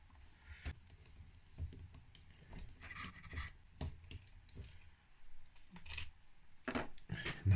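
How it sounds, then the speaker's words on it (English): Metal clicks and light clanks ring out at an irregular pace as a socket wrench and bolts are worked out of a Yamaha DTR two-stroke motorbike engine during disassembly, close up, with a soft background hiss. "So just take all the bolts out now"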